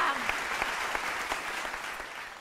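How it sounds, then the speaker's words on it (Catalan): Applause for a contestant on a spelling quiz show, a steady wash of clapping from a studio audience that holds for a couple of seconds and slowly fades, with no talk over it. "Fort aplaudiment per l'Alba."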